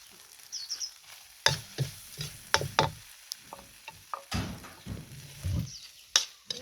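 Spicy field rat being stir-fried in a pan, with sharp spatula scrapes and clatters against the pan between softer stretches of sizzling, close and fairly quiet.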